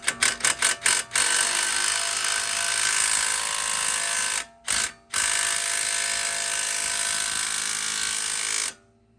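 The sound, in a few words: small drill tightening bolt on Camaro lowering springs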